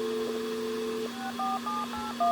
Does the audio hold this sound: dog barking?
no